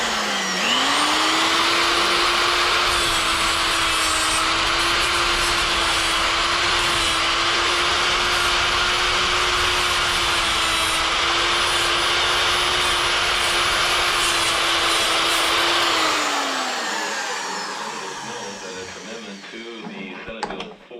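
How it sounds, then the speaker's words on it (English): A tool and cutter grinder sharpens a lathe tool, a steady loud motor whine with a constant grinding hiss that holds for about sixteen seconds, then winds down and fades out. "So I'm going to take and sharpen a tool and cut that."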